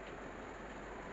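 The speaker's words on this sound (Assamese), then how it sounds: "বৰষুণ দিছে দেই বাহিৰত" Rain falling outside during an afternoon shower, a brief, faint, even hiss of steady drops with no voices.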